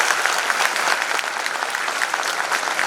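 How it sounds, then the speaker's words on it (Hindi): Loud, dense applause from a crowd of staff at a motivational speech, steady sustained clapping throughout with no voices breaking through. "उनके लिए एक बार जोरदार तालियां बजा दीजिए"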